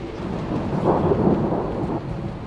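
Thunder rumbles low and heavy over steady rain during a storm on a Denali hiking trail in Alaska, a broad continuous roar with no voices.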